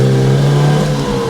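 A Datsun 620 pickup's engine pulls hard in first gear, a loud, steady mid-low drone that holds for about a second before easing off, with no voices over it.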